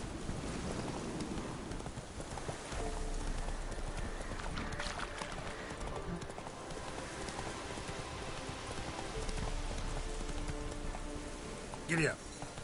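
Hooves of the horse Roach gallop in a fast clip-clop rhythm through a video game landscape, with rain and ambient game sound beneath, steady throughout and a brief louder burst near the end.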